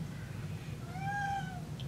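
A house cat gives a single drawn-out meow with a rising then falling tone, fairly close and clear over a low background hum.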